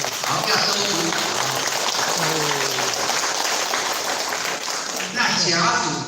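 Students at a lecture hall clap together in sustained, even applause that fills the room, with a speaking voice cutting in over it.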